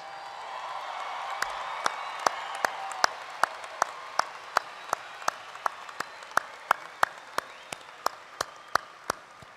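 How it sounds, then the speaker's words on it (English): A crowd at a university spring commencement applauds the graduating class, a sustained wash of clapping with one nearby pair of hands beating a steady, evenly spaced rhythm all the way through. "One more round of applause"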